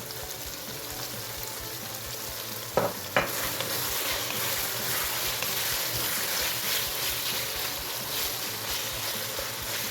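Vegetables for lagman, including bell pepper and tomato seasoned with black pepper, salt and ginger, fry in a pan with a steady close sizzle; a couple of sharp knocks come just before the midpoint, and no one speaks.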